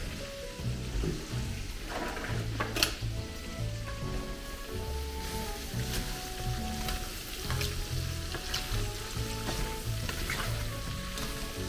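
Cabbage fries in a pan with a little salt and pepper, a steady close sizzle running throughout while a utensil scrapes and stirs at irregular intervals.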